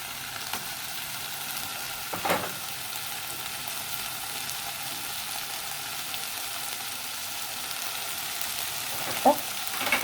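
Vegetables and beetroot are stirred together in a pan, with a soft, even frying hiss throughout and a couple of light utensil knocks against the pan.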